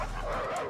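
A lively dog gives short barking yips close by, filling a brief, steady burst with no talk over it.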